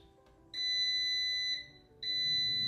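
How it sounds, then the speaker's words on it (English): Two long, loud, piercing electronic beeps from an Instant Pot 10-quart air fryer, each held for about a second with a short gap between, sounding close by over a faint hum. "It's going to make a lot of beeps and noises"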